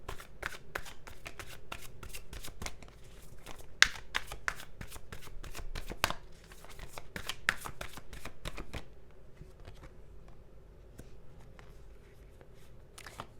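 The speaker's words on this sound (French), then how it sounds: "je vais tirer d'autres cartes parce que j'ai besoin de précision ici" Tarot cards shuffled and drawn by hand, a steady run of dense riffling clicks and soft slaps close up, with a few sharper snaps as cards are pulled and laid down, easing off toward the end.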